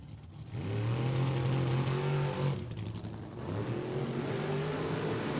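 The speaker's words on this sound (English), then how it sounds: "Definitely hear those cars going off and on the stop." Drag racing cars at Lebanon Valley Dragway roar off and on their throttle stops, a loud, sustained engine howl that dips briefly mid-run and surges again, heard from trackside.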